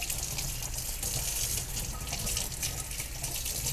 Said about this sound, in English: I'm gonna run the faucet just over the roots just to get rid of any excess soil